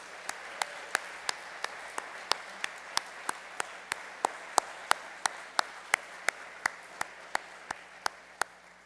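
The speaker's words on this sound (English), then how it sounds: "Will all these award recipients please stand for a round of applause?" Sparse applause at an awards ceremony for a college gathering: isolated, evenly spaced claps ring out one at a time, fairly faint and distant over a quiet room, with no voices.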